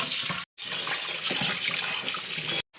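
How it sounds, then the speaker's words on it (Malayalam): Tap water running steadily into a sink while raw chicken is washed in a bowl, a close, loud splashing rush that briefly cuts off and restarts, no voices. "അപ്പം നമുക്ക് ചിക്കൻ കഴുകിയാലോ?"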